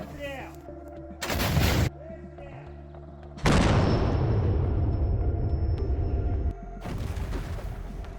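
Heavy booming blasts from an artillery cannon firing in the Kherson region punch through the clip, one sharp burst followed by a massive, rolling explosion that rings on, with faint voices underneath.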